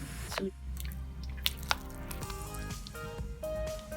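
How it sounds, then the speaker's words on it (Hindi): Semolina soaked in yogurt plops into a paneer and khoya halwa mixture, giving soft wet squishes and drips over a low steady hum, with a couple of sharp clicks midway. "सूजी डालेंगे इस मिक्सचर में, जो कि हमने दही में भिगोई हुई थी।"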